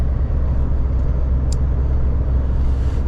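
A car drives along a damp but clean road, giving a steady low rumble of engine and tyre noise with a faint hiss, constant and close throughout, with no talking.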